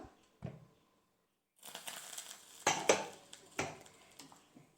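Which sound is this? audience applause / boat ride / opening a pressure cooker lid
opening a pressure cooker lid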